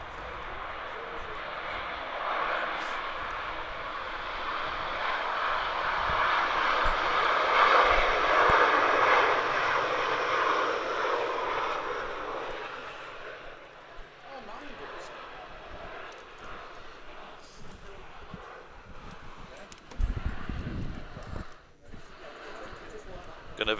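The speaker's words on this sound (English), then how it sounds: "It taxis towards us. 737. CFM 56 engines on this as well." A Jet2 Boeing 737 with CFM56 engines taxiing at Manchester Airport in wind and rain, its engine roar swelling and then fading over about fifteen seconds, with wind buffeting and a voice speaking underneath.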